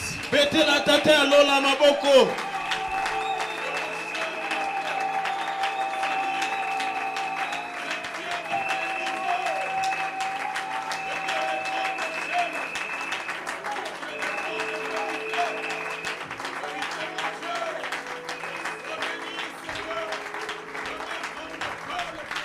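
A church congregation applauds during a Sunday service, with steady, dense clapping that carries on throughout and sustained musical tones from instruments holding underneath.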